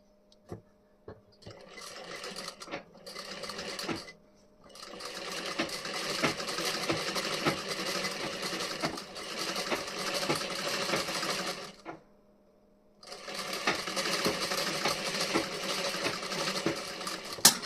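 A sewing machine runs loose basting stitches along the armhole side of a blouse front, close and alone, in long even runs broken by short pauses and a few light clicks between them.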